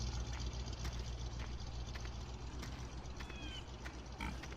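Pigs on a farm grunting and oinking in short repeated bursts over a steady low background hum, with a faint squeal near the end.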